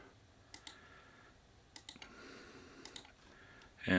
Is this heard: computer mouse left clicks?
yes